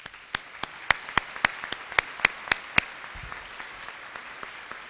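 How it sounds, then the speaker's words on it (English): A small audience at a Partners in Education breakfast gives a brief round of applause, a dozen or so distinct sharp claps from a few people that stop after about three seconds. "Could we give them a round of applause,"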